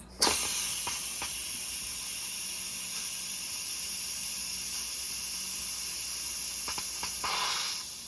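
Steam hisses from an Instant Pot during quick release after cooking zucchini noodle ramen, a loud continuous rushing jet that holds steady for several seconds, with a few faint clicks near the start and end.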